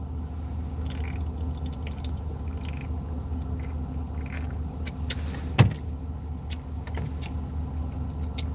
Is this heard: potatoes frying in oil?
no